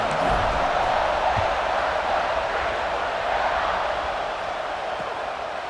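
A stadium crowd roars steadily at a kickoff in a college football video game, Texas at Ohio State, a dense continuous wash of cheering that fades slightly toward the end.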